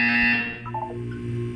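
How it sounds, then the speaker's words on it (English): A short electronic buzzer from the video game Portal 2 sounds as a steady humming tone that fades after about half a second, leaving a low hum with faint tones behind it. "You will hear a buzzer."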